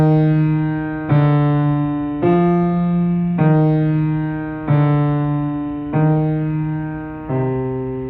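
A slow piano melody of sustained notes, each struck about once a second and left ringing, clear and close with no voices.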